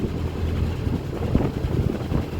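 Low, rumbling wind buffets the microphone steadily while mooring a boat, a constant blustery roar close up with no other sounds.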